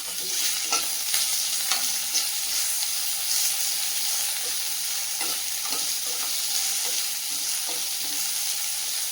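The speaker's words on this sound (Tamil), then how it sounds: "வெங்காயத்தை நல்லா வதக்கி விடுங்க" Sliced onion sautés in a frying pan with curry leaves for a cabbage stir-fry, giving a steady, close hiss and sizzle with occasional scraping of the spoon as it is stirred.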